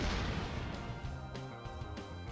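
Inferno fire spell effect in the Baten Kaitos video game, a roaring, crackling burst of flame that opens loud and keeps going under a short run of tonal game effects and music notes.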